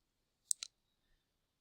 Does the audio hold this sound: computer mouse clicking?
yes